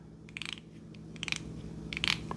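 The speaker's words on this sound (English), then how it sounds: "This one here makes a clicking sound." A Swing Away manual can opener gives off several quick, faint metallic clicks in small clusters, close by and alone against a low background hum.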